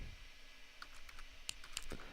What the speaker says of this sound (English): oh, my keyboard's acting up